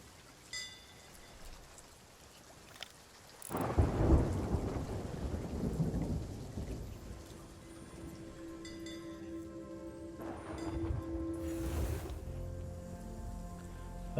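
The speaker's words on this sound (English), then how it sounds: "I can't tell, it's raining too hard." Heavy rain pouring in a stormy pirate video game scene, with a loud rumbling thunderclap that rolls on for several seconds over the constant downpour, and a second swell of thunder later.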